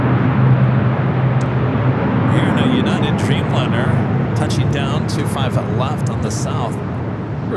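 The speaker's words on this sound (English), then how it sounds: "Here in a United Dreamliner, touching down 25 left on the" A United Boeing 787-10 Dreamliner from Newark touching down on runway 25 left at LAX, a loud, steady jet rumble running beneath someone talking throughout.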